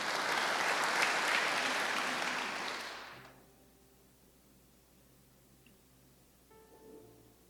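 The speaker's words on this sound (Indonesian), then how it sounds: "Yang setuju berikan tepuk tangan dong." A church congregation at a worship service claps together in loud, dense applause for about three seconds, then it thins out and fades into a quiet room.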